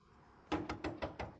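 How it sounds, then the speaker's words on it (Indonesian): Knocking on a door: five firm, evenly spaced knocks, close and distinct against a quiet background. "Ketok ketok ketok, apa sih?"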